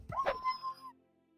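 A dog barks in Morrowind: Bloodmoon, one short yelping woof with a trailing whine, close and clear over a quiet game background.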